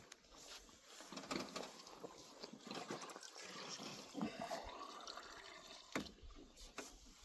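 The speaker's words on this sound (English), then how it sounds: "all you do is fill it with water" Water is poured into the one-way valve of a Lorentz solar pump, making close irregular gurgles, trickles and splashes that swell and ease off as it fills.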